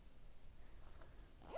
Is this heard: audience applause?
no